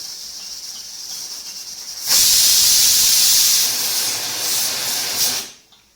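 A pressure cooker with kheer inside lets off a loud, sudden rush of steam. The hiss bursts in after a quieter stretch, holds strong for about three seconds with a slight waver, then cuts off.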